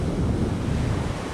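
Choppy, murky sea surf rolls steadily at Kings Bay beach in Tobago, a continuous broadband wash of waves mixed with wind buffeting the microphone, with no voices.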